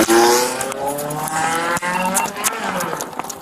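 A car speeds off from a police traffic stop, its engine revving and tires squealing near and loud, with scuffs, a thump and faint voices mixed in.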